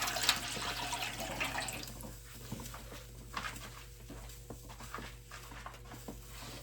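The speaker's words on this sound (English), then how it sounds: "I'm adding 2 cups of tap water." Tap water pours steadily into a dye pan in a kitchen for a rainbow yarn dye batch, a continuous splashing wash with a louder start that settles into a softer running stream.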